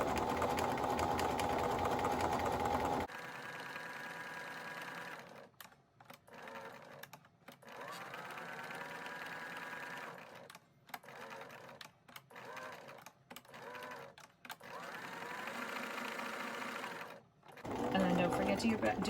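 A Bernina Activa sewing machine sews a curved seam in short bursts with pauses between them, its whirring stitches mixed with a person talking nearby.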